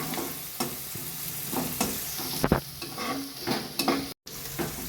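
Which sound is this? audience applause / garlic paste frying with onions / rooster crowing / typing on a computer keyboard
garlic paste frying with onions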